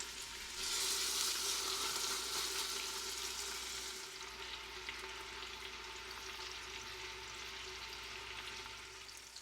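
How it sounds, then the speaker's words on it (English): Chunks of pork butt sear in an Instant Pot, giving off a steady, close sizzle that swells early and then settles into a softer, even hiss that continues without speech. "I'm going to attempt to brown all the sides of these different chunks of pork butt"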